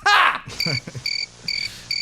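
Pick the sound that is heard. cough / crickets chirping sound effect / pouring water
crickets chirping sound effect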